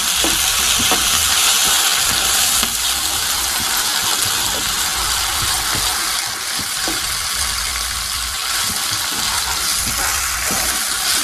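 Oil sizzles and crackles steadily in a pan as food fries, a loud, continuous hiss with small pops scattered throughout and no voices.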